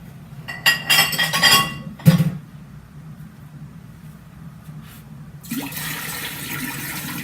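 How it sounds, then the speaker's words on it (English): Water poured into a jar while brewing kombucha: clinking and handling sounds first, then a steady rushing pour that starts partway through and continues to the end, close and moderately loud. "I'm going to get a lot of the water in right now anyway"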